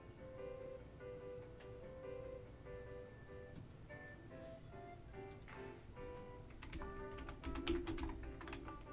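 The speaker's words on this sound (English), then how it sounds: "why am I typing?" Fast, irregular clicking of computer keyboard keys, typed in close bursts over quiet background music during a game stream.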